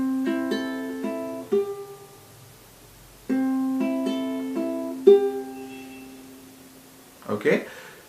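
Plucked ukulele notes ring out in two short phrases separated by a pause, bright and close, ending with a brief rustle.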